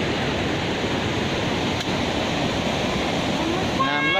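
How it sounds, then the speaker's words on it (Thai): Water rushing steadily through a canal fed by a waterfall, outdoors in a natural setting: a dense, continuous broadband wash, close and even, with a brief tonal blip near the end. "น้ำไหลผ่านคลองเนาะ"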